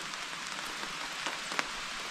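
Rain falls on a campsite in a steady soft patter with occasional sharper drops, and no one speaks.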